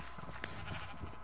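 Sheep in an arcade video game give a short, faint bleat set against busy game background noise.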